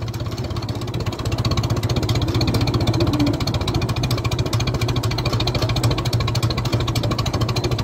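A vintage tractor engine putts steadily at low speed in third gear while climbing a hill, a rapid even chugging beat close by and loud throughout.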